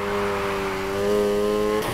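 A car drifts in the racing video game Need for Speed Heat, with a steady, loud engine whine holding one pitch under hard throttle and then cutting off abruptly near the end.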